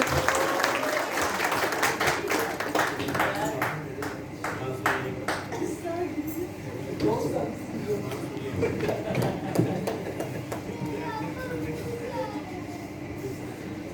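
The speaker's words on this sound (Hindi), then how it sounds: "एक बार जोरदार तालियां।" An audience at a motivational talk breaks into dense, sustained applause with sharp individual claps scattered through it, while voices carry on underneath.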